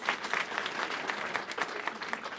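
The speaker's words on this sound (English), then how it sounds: "So let's give them a round of applause." Steady applause from an audience at an art gallery opening reception, a dense continuous wash of claps at moderate distance, no voices over it.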